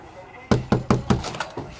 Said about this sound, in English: Try knocking again.